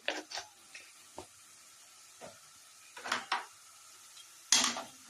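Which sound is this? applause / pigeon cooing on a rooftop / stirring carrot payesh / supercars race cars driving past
stirring carrot payesh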